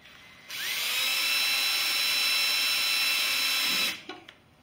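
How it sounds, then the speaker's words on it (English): A small high-pitched electric drill whines steadily for about three seconds drilling a tiny hole in jewelry, then spins down and stops, with faint handling noise afterward. "Drill this teeny tiny little hole."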